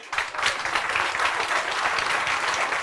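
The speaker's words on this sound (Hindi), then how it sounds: "जोर से तालियां।" Loud, dense audience applause at a Springboard Academy seminar, with many hands clapping steadily and close together for the whole stretch and no talk over it.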